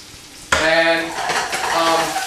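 Onions and peppers hit a hot pan and break into a loud, crackling sizzle that carries on while being stirred, with faint scraping against the pan.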